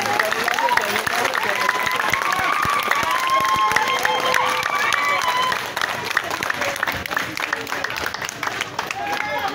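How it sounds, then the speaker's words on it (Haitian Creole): Crowd at an outdoor gathering honoring a minister, with steady clapping and cheering throughout, voices shouting and talking over the applause at close range. "Il y a des gens qui viennent applaudir le ministre là."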